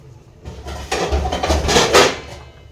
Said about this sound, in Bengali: ঢাকা দিয়ে রেখে দিলাম কিছুক্ষণ